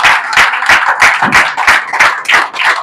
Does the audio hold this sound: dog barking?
no